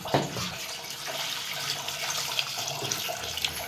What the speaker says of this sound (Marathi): आता तुडून घेते कुरड्या पाणी ओतून